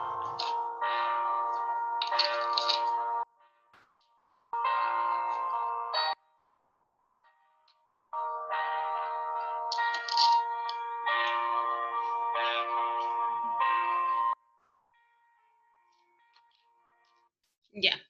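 Piano chords played in short phrases, separated by brief pauses, ringing clearly with sustained harmonic notes and no voices.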